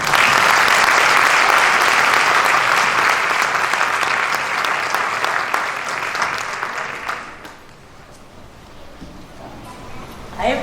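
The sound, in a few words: applause at a board of education meeting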